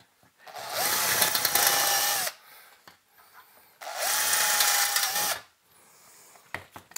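A power drill fitted with a new bit runs in two bursts of about two seconds each, a loud close whine that spins up, holds, and winds down, separated by quiet pauses with faint handling noises.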